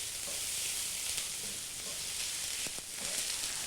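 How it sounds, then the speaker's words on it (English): Finely chopped onion sizzles in hot oil with sausage as a steady, close frying hiss, with a few faint stirring clicks and no speech. "we're going to add 1 medium onion, that's also been finely chopped. Stir that into the hot oil."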